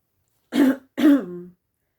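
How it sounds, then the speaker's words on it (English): Two quick throat clears, close and fairly loud, the second rougher and trailing into a short raspy cough, in an otherwise quiet room. "I've got a frog in my throat because I'm recording a video, so I'm sorry about the coughing"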